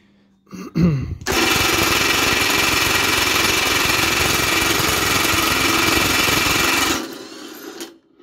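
A Milwaukee M18 FID2 impact wrench on its 119 Nm mode loosens a bolt tightened to 126 Nm, hammering loudly and continuously for about six seconds after a brief start-up, then stopping abruptly.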